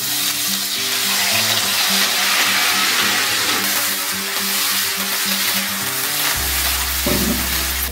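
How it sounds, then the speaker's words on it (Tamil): Grated coconut and jaggery being stirred in a hot pan for a traditional milk sweet, a steady close sizzle with continuous scraping of the spoon and a low hum beneath. "கை விடாமல் கிளறிக்கிட்டே இருக்கணும்."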